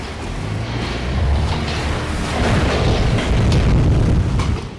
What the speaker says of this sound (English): Another mortar lands,